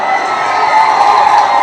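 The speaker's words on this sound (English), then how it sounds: "I'll give you all another round of applause." A crowd roars and cheers loudly and continuously, a dense wash of voices and whoops with no break.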